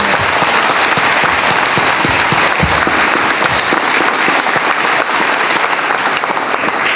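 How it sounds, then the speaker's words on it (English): Loud, sustained audience applause at a community appreciation event, dense clapping that stays even and unbroken for the whole stretch, close and full. "Let's give that a round of applause."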